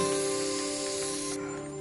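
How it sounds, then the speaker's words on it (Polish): A spray can hisses in the video game Teardown, a steady bright spray lasting over a second before cutting off to a quieter tail, with no talking. "To jest spray."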